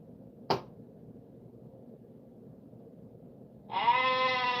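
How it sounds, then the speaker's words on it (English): A goat bleats in one sharp, brief burst, followed by a quiet pause, then a bright tonal chime of a stream subscription alert starts and rings on steadily to the end. "The goat scared the hell out of me."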